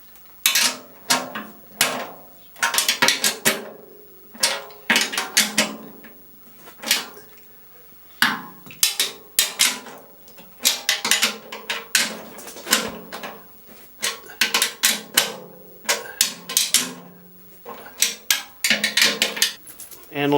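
Sharp metallic clicks and knocks come in irregular bursts while 13mm nuts are tightened on a Harbor Freight chipper shredder after a year of use, close and busy with brief pauses between runs.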